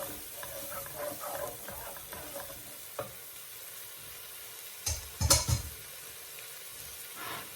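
Onions fry in a pan with a soft, steady sizzle, interrupted by a few stirs and a sharp scrape or clatter of a utensil near the end.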